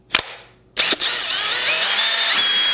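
A DeWalt two-speed hammer drill starts with a couple of sharp clicks, then spins up into a loud, steady, high-pitched whine that runs on close to the microphone.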